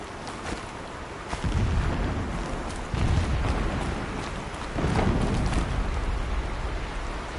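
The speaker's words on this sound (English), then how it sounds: "Explosions in the distance." Distant explosions in Horizon Zero Dawn come as three deep, rumbling booms spaced a couple of seconds apart over a constant hissing, rain-like wash.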